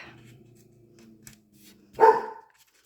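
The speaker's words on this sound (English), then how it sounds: "He's barking at the squirrels." A dog barks at squirrels outdoors, one loud bark following low steady background hum and faint tapping in a home.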